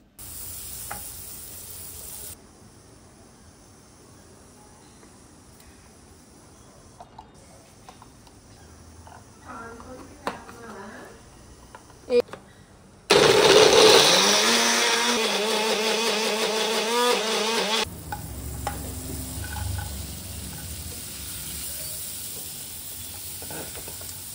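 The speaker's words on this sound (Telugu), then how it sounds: "కొంచెం సాల్ట్ ఇంకా చిల్లీ ఫ్లేక్స్ వేసి బటర్లో లైట్గా సాటే చేసి తీసేసాను" Broccoli pieces sauté in butter with salt and chili flakes, a soft kitchen background that swells into a loud, steady sizzle for several seconds before easing back to quieter cooking noise.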